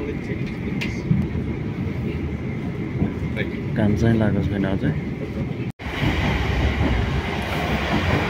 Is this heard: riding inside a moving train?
yes